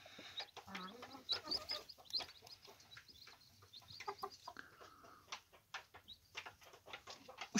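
Several Gurk chickens cluck and squawk close by in irregular bursts, with a few sharper calls mixed in, no talking.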